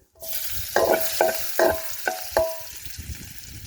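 Chopped garlic sizzling in hot oil in a pan for a soya curry, with five distinct scraping stirs of a spoon at roughly even intervals over a steady close frying hiss.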